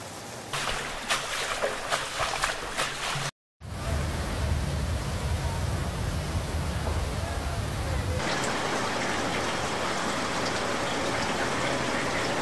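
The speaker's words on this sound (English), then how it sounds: "The video footage shows the flooding of the streets of Bronte, which turned into real downpours" Floodwater rushing through the streets of Bronte, Sicily, after intense rainfall in the Etna Park area, a steady loud broadband gush, cut by a brief silent gap and continuing unbroken afterward.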